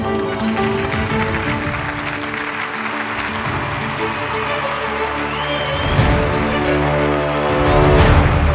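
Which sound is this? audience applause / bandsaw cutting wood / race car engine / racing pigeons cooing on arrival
audience applause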